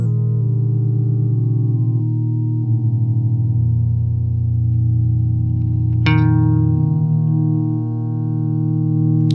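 A single sustained guitar note held and layered into a frozen drone by an Electro-Harmonix freeze effect pedal, swelling steadily, with a brief bright pluck partway through.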